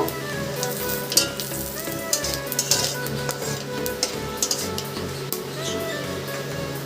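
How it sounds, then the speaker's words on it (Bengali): Bay leaf, dried red chilli and panch phoron crackle in the oil left from frying pointed gourd, with a dense close sizzle, irregular pops and repeated utensil scrapes and clinks throughout, and no talk. "এবার পটল ভাজার তেলের মধ্যেই একে একে ফোড়নের জন্য দিয়ে দেব তেজপাতা, শুকনো লঙ্কা আর একটু পাঁচ ফোড়ন।"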